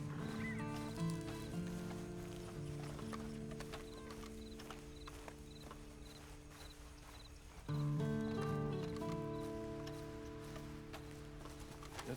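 Horse hooves clip-clopping at a steady gait in Red Dead Redemption 2, joined by a brief whinny, all set over a continuous layer of tonal game music with a louder swell near the end.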